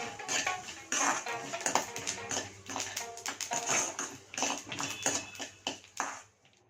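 Sesame seeds being dry-roasted in a pan for mint chutney: busy, continuous scraping and clinking of a utensil against metal with light crackles, moderately close and fairly quiet.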